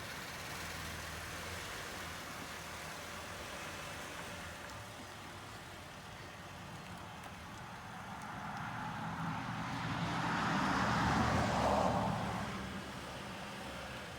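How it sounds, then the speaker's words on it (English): A car on a test drive after an oil change, its engine and road noise humming steadily throughout and swelling louder mid-clip as it accelerates or passes, with no talking. "Let's now take this for a test drive."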